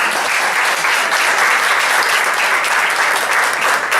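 An audience claps steadily throughout, a dense, even wash of applause at close range with no break.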